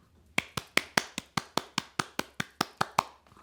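A single person claps hands in a steady run of about a dozen sharp, evenly spaced claps, close and dry, with no one talking over them.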